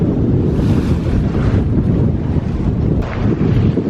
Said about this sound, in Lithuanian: Vėją turim sočiai. Bangos irgi nemažas.